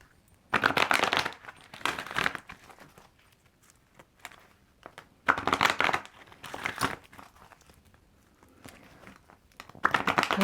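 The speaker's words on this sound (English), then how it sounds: "Let's pull one last set of cards for you." Tarot cards are shuffled by hand in bursts of crisp riffling and papery flutter, with quiet pauses between the rounds.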